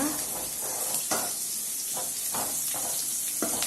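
Brinjal sautés in oil in a pan for ennai kathirikkai kulambu. It gives a steady, dense sizzle, with periodic scraping bursts as it is stirred.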